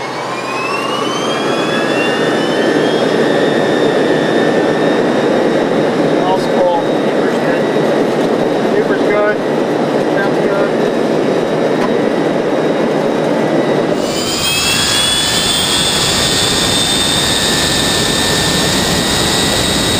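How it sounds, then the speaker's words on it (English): Jet engines of a DC-8-62 airliner at standard power, a loud continuous roar with whining tones that shifts in pitch and character partway through, heard close and steady with no talk. "Standard power on the airplane."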